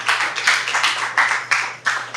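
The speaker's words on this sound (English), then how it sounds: "we certainly should give them a round of applause" A restaurant-industry conference audience gives a round of applause, dense clapping swelling in several bursts over a steady crowd wash, close and fairly loud.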